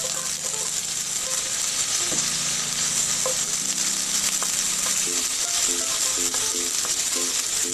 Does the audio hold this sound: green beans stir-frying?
yes